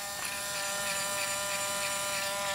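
A GI Pulse RDR paintball loader motor runs continuously with a loud, steady electric buzz and high whine, close up and alone.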